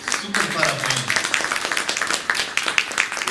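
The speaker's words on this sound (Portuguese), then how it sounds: "dá uma salva de palmas para a Carla" An audience at a wine talk breaks into dense, lively applause, many hands clapping at once, with a voice briefly heard at the start.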